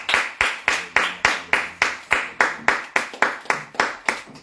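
A church congregation clapping in unison, a steady rhythmic beat of loud, close handclaps about three per second, with faint singing underneath.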